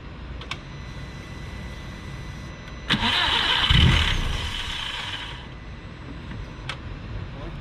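A car fitted with a big turbo cranks briefly and fires up with a sudden loud catch, then settles into a rumbling idle that fades back toward quiet, with faint background noise before and after.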